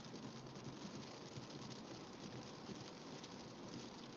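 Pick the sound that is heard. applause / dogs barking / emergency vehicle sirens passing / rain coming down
rain coming down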